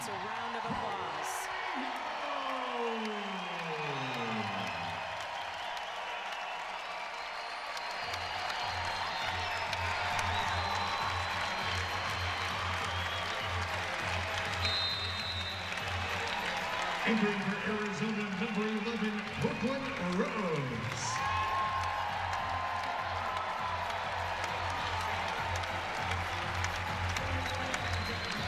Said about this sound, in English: The seniors, as Mary Martinez and Elena Cuello, getting a well-deserved round of applause